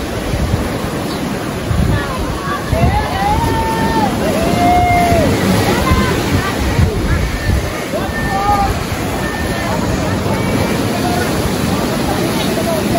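Ocean waves break steadily at the Cloud 9 surf spot on Siargao, a continuous roar of surf with wind noise that fills the scene while people talk over it.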